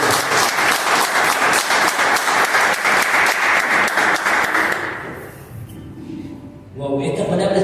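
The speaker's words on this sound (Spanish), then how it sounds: "¿Por qué no le dan un aplauso?" Congregation at a church service applauding, loud rhythmic clapping that holds strong for about five seconds, then fades out as a voice speaks over it.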